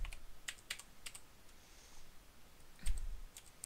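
Quick bursts of computer keyboard typing during Minecraft play, clustered clicks in two short runs separated by a pause, close and fairly quiet with no talking.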